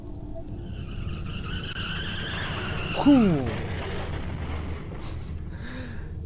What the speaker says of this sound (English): Then, there was an oddly familiar sound. Another car accident.